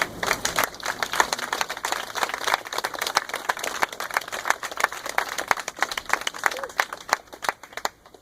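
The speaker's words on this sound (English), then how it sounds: "Please give yourselves a round of applause." A crowd at a march and vigil in Houston, Texas claps, a fairly faint, uneven patter of many individual hand claps with sharp separate spikes, heard from a distance and tapering toward the end.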